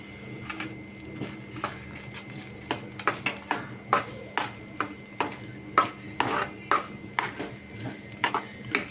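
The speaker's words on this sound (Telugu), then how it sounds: "యాడ్ చేసుకొని మొత్తం ఒకసారి మంచిగా మిక్సీ చేసుకోవాలి" Rava kesari being stirred with ghee in a pan, heard as a run of close clinks and scrapes of a spoon against metal that grows busier and more rhythmic toward the end, with no voices.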